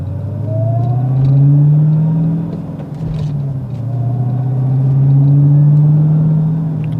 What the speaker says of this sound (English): let's do that same thing in a real Hellcat and see what it sounds like